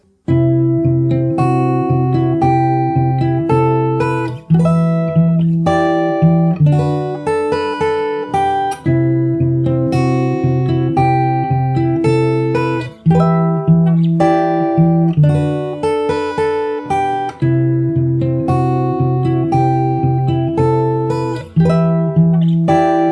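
Fingerstyle guitar plays a pre-chorus alone, with plucked notes over a repeating bass note, the picked pattern sustained steadily with brief pauses between phrases.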